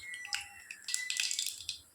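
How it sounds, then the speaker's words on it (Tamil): Mustard seeds splutter in hot oil in a pan with chana dal and urad dal while cooking potato masala, giving faint, irregular crackles and pops that cluster toward the end. "கடுகு நல்லா பொரிஞ்சு வந்ததும்"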